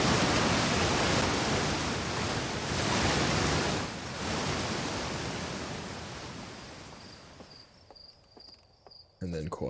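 Loud rushing water in the video game Outer Wilds, a steady roaring wash that gradually fades over several seconds and gives way to near quiet with faint tonal chimes.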